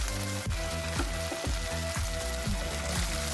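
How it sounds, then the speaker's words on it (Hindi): Chopped tomato and capsicum fry in a pan over a medium flame with a continuous close sizzle and crackle. A few soft stirring knocks fall about every half second, and no voices are heard. "एक शिमला मिर्च बारीक कटी हुई डालेंगे। इसको थोड़ी देर के लिए फ्राई करेंगे।"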